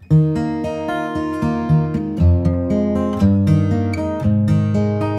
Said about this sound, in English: I've got it inserted onto this acoustic guitar track